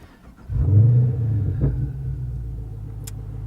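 A 2014 Chevy SS V8 with an MRT cat-back performance exhaust cranks and fires up, a deep rumbling burst settling into a steady, throaty idle up close.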